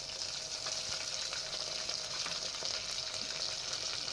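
Ginger garlic paste frying in a pan for village-style country chicken curry: a continuous, even, fairly soft sizzling hiss with faint crackles throughout, and no voices.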